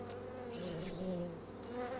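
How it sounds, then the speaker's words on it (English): Irritated bees buzzing in the video game Wytchwood, a steady low droning hum that holds evenly from start to finish, fairly quiet with no talking. "The bees are irritated."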